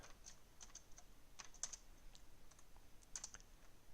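Typing on a computer keyboard while coding, with quick, light key clicks coming in uneven bursts at close range, heard alone with no talking.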